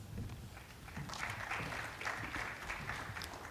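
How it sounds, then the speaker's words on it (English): An audience at a conference morning session applauds as a panel comes on stage, a moderate, fairly quiet patter of clapping that swells after the first second and holds steady to the end. "Please warmly welcome them on stage with a round of applause."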